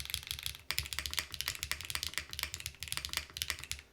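Fast, steady typing on a Luminkey Lumino75 mechanical keyboard with HMX Sunset Gleam ABS keycaps and gasket mounts, close up, with sharp, somewhat plasticky clacks and no talking.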